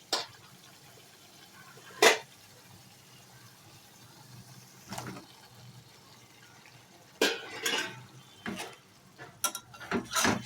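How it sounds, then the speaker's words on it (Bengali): Green beans tipped into a pan of spice paste frying in oil, giving a few sharp clattering hits followed by rustling, scraping stirs, close and moderately loud with no one talking. "আমি এবার শিমগুলো দিয়ে দেব।"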